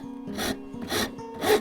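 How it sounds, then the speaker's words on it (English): Wood rasp rounding over the edge of a wooden coat hook, three rhythmic rasping strokes at close range, each a gritty scrape with brief pauses between. "Again, just use the rasp"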